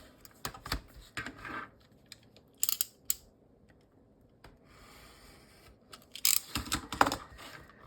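Scissors snip and rustle through paper while journal tags are being made, in short scattered bursts of cutting and rubbing with quiet pauses between.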